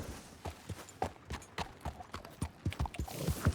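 Hooves clip-clop in an uneven walking rhythm in Red Dead Redemption 2 gameplay, a quiet string of close hoof strikes that grows denser toward the end.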